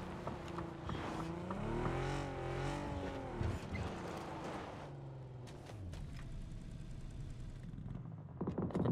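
A car engine in the PUBG battle royale video game drones steadily with rising and falling revs, loud and continuous throughout, with a few scraping skids and bumps toward the end.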